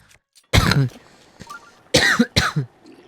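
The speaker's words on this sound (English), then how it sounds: "And I do apologize for the coughing." Someone coughs in three close, harsh bursts with quiet gaps between them, recorded near the microphone during a Zelda: Breath of the Wild gaming session.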